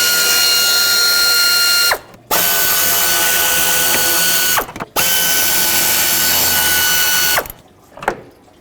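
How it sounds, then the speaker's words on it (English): A ratchet wrench backs out 8mm bolts from the throttle body cover on a 1997-2003 Ford F-150, producing three long, loud, fast clicking runs up close, each separated by a brief pause. "to actually get to the throttle body, I need to remove this cover, 3 8mm bolts"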